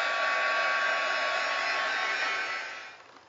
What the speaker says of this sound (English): Now I'm going to zap this real quick with the heat gun so you can see those quick results.